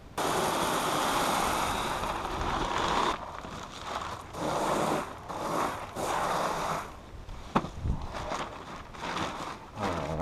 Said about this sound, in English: I'm going to pour the rest of the pea gravel in